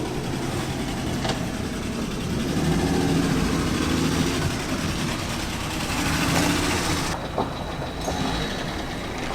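A classic car idles steadily at a February classic car meet in Crewe, its low engine note running continuously throughout under ambient crowd noise.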